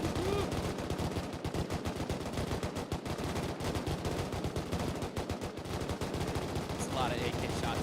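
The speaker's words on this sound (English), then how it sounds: "A lot of AK shots. That's a lot of AK shots." AK rifle fire in the video game Rust, dense rapid bursts of automatic gunfire crackling almost without pause, from several guns at varying distances, with brief talk mixed in.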